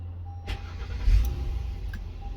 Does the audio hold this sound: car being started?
yes